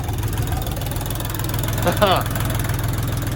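A Lovol FT 244 HXN tractor engine starts and idles steadily with a low rumbling knock throughout, a brief rise around two seconds, voices faintly mixed in; the engine is not secured in its mounts.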